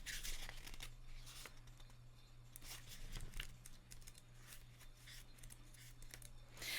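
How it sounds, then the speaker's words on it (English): Tarot cards being shuffled by hand for a pick-a-card reading, a close, steady run of papery riffles and crisp rustling flicks with no talking. "I wanted to shuffle the cards on camera for you guys"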